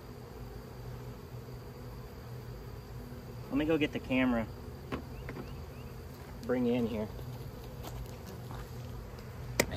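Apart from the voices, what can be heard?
bees buzzing around a queen bee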